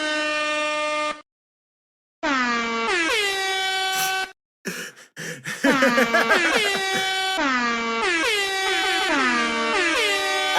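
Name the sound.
Taps played on an air horn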